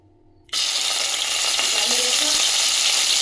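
Dried shrimp hit hot oil in a pan for a gongura coconut curry, bursting into a loud, steady, continuous sizzle after a brief quiet moment, with faint stirring scrapes underneath.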